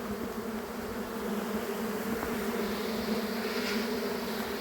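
Honeybees flying in to their hive beside woods and meadow make a steady close buzzing drone that holds for the whole stretch, with no voices.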